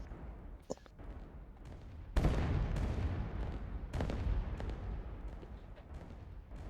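Artillery fire in the real-time strategy game Rise of Nations rumbles as a few muffled distant booms, one heavy blast followed by rolling lower thuds under a steady battle din.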